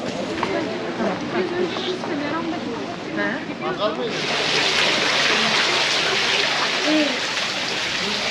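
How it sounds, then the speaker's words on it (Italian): Running water from an ice-cold fountain in Konya where worshippers wash their feet and hands, a continuous splashing hiss that grows louder partway through, under steady talk. "Qui ci sono tutti i fedeli che si lavano i piedi e le mani con questa fontana che ha l'acqua ghiacciata."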